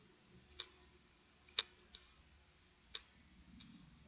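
Calculator buttons are pressed one at a time, giving several faint, sharp clicks at irregular intervals in a quiet room.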